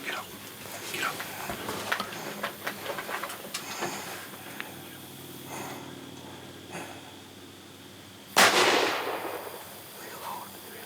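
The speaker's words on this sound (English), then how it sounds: "Shoot him again. Quick." A single loud rifle shot cracks out during a youth deer hunt in the woods, standing out sharply near the end after a stretch of excited, hushed talking and rustling.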